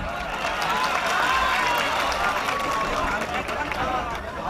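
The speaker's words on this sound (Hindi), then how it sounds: "पुरजोर तालियों से बताइए मुझे" Mushaira audience applauding continuously at an Urdu poetry gathering, a dense steady wash of many hands with crowd murmur mixed in, loud and sustained throughout without letting up.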